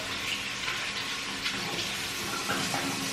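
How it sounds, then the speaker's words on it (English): Water runs steadily from a bathroom tap as it heats up during a morning routine, a continuous hissing splash at moderate volume with a few small knocks. "I do have to heat up the water for a second, so I'm not just letting it run"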